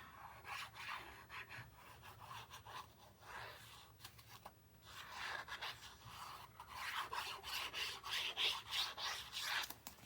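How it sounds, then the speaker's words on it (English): Paper being burnished by hand onto a page of a Stamperia Alterego 9 x 10 mini album, faint, close, uneven rubbing strokes in bursts that grow a little stronger toward the end. "It's easier to burnish by turning it down."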